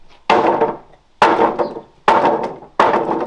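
Four sharp, loud hammer blows on wood, evenly spaced under a second apart, each with a brief ringing decay.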